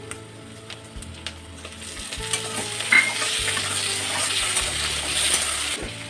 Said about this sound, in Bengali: এখন আমি দিয়ে দেবো এর মধ্যে টমাটোর কুচি